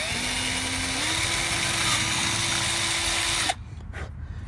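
A power drill bores a hole for drift stitching, a loud, close, steady whine whose pitch steps up slightly after a second and runs for about three and a half seconds before cutting off abruptly, followed by brief quiet handling noise.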